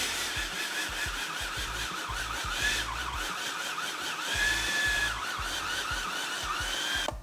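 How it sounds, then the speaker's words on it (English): A food processor mixing whole wheat bread dough, a steady close motor whir with a rhythmic thumping churn as the dough knocks around the bowl throughout. "This is just the food processor doing its thing and activating or developing the gluten in the flour"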